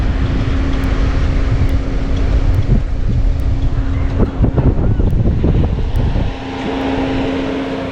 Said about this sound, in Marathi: आणि हवा एवढी मस्त सुटली ना